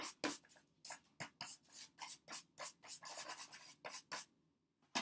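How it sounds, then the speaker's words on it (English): Rapid bristly brushing strokes dusting a metal bird cage, about a dozen quick scrubbing swipes in uneven rhythm, close and fairly loud, with no talking. "Kind of brush it out. Get some of this dust off."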